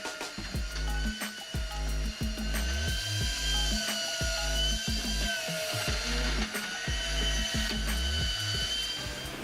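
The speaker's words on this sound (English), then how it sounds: "The versatility and cost-effectiveness of Hanfab's dye wood processor highlights the importance of creativity" Hanfab wood processor cutting firewood into equal pieces, a rapid mechanical clatter of regular ratcheting knocks repeating throughout, loud and close with a steady machine hum beneath.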